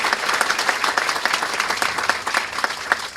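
A crowd applauds for a judge and commissioners at a dedication ceremony and ribbon cutting, dense and steady clapping from many hands that fills the room for several seconds.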